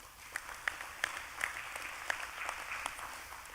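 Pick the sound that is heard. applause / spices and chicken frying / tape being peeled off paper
applause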